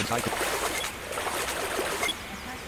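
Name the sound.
waterfall water rushing in an audio video game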